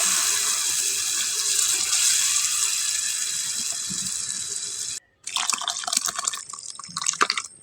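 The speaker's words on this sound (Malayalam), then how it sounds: "നമുക്ക് സാമ്പാറായിട്ട് അങ്ങോട്ട് ഒഴിച്ച് കൊടുക്കാം." Sambar poured from a vessel makes a continuous gushing liquid stream that stops abruptly, then a few wetter splashing pours and drips follow, close up with no talking.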